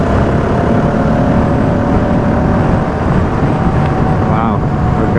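A Husqvarna 701 Enduro motorcycle cruising at around 60 mph in sixth gear, a steady loud roar of engine and wind rush that holds constant without letup, with a faint tonal whine riding over it.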